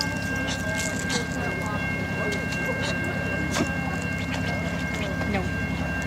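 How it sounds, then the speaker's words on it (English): An Amtrak passenger train arriving at a station, with a steady rumbling rail noise and repeated clicking from the cars throughout, plus a sustained high tone, while people talk nearby. "There's the train right there."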